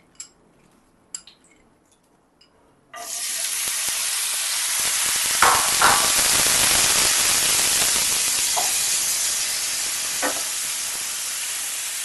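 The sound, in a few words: bitter gourd with salt and turmeric frying in mustard oil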